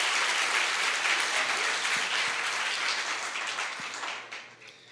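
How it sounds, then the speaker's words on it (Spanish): A church congregation bursts into loud, dense applause for the Lord, a steady wash of many hands clapping that holds for several seconds and then begins to thin and fade. "denle un aplauso bien fuerte al Señor"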